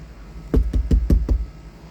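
Five firm knocks land on a door in quick, even succession, close and loud, then stop, leaving a quiet room.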